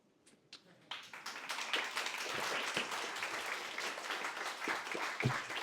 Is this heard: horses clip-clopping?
no